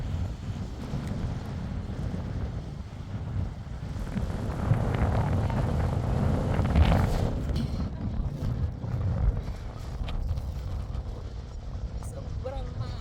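Wind buffets the microphone on a Dead Sea beach in Israel, making a low, continuous rumbling roar that swells in the middle. People talk over it throughout.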